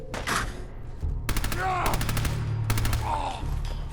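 Rapid bursts of gunfire from a hunting rifle in the video game Fallout 4 come in three quick volleys. A voice talks in between and over the shots.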